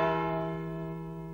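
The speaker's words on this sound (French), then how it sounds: "Il avait appris à sonner les cloches pour annoncer les messes, les mariages, les baptêmes et les enterrements." Single church bell in a Hunchback cartoon, struck once and ringing out in a long, sustained, slowly fading tone with no talking.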